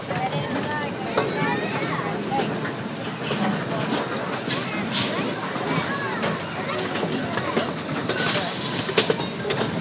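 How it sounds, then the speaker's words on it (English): An amusement park train ride running at Adventureland in Des Moines, Iowa, a steady rumbling roll with clicking wheels and scattered squeaks, fairly close, under a person talking. "So train ride does just a portion of the park."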